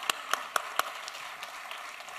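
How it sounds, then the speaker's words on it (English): Scattered hand claps, about four sharp claps in quick succession, then fainter patters; sounds like a small group's brief, thin applause. "Can we give him a round of applause for that?"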